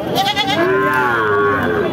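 A native goat bleats at a livestock market, one long wavering cry close by that rises and falls over about a second, with crowd noise underneath.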